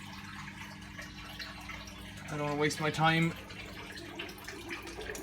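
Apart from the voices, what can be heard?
Bosch washing machine pumping out water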